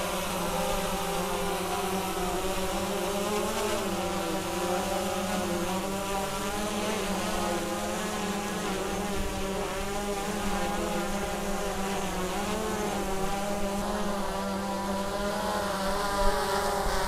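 A DJI Mavic 3 drone flies outdoors in light wind over snowy avalanche terrain, its propellers giving a continuous steady buzzing whine with shifting tonal bands, moderately loud and heard alone for the full stretch.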